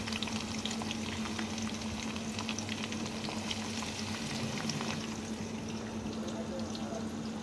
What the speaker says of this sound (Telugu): దాంట్లోనే కొన్ని ఉల్లిపాయలు తాలింపులో వేసి